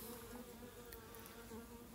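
Several worker bees buzz steadily inside a queen cage at close range, a continuous droning hum with no speech over it.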